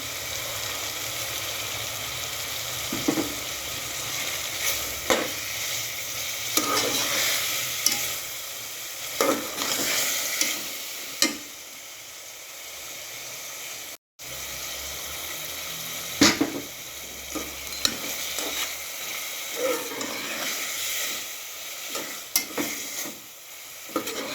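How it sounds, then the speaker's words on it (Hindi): Chutney added to a mutton seekh kabab and tikka karahi, sizzling steadily while a utensil stirs and scrapes in repeated close strokes, with one brief gap partway through. "अब मैं इसमें डालूंगी चटनी।"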